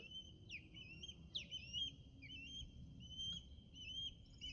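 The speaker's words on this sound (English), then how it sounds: "there's a bird in the background." A bird calls repeatedly in the background with sharp, swooping whistled chirps over a steady low rumble, moderately faint and with no voices.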